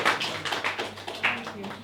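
A small audience at a filmmaking masterclass claps briefly, a few scattered close hand claps mixed with murmured voices over about two seconds.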